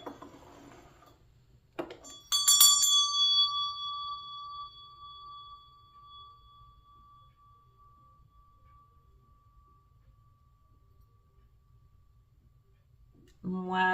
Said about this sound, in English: I'm going to go on ahead and ring my meditation bell.